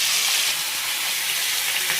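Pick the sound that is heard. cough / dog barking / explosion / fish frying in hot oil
fish frying in hot oil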